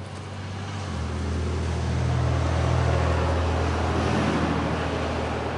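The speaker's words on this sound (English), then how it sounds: "Big old truck." A big truck rumbles past with a deep, loud, steady roar that swells and fills the whole stretch.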